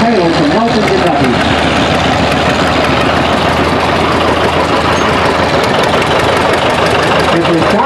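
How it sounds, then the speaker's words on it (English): A 1955 John Deere Model 50 tractor pulling a 214 plow at an outdoor plow day chugs loudly and steadily nearby, its low engine rumble continuing throughout under an announcer's voice. "we have Mr. Ken Taylor from Elton, Kentucky, a 1955 John Deere."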